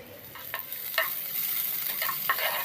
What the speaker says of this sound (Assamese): প্ৰথমে আমি পিঁয়াজখিনি ভাজি ল'ম।